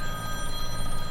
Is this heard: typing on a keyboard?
no